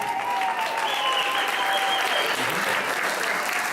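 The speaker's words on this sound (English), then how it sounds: "How about a round of applause for these people?" Crowd at a school reunion applauds former band students, a dense, continuous wash of clapping from a large audience throughout, with faint voices underneath.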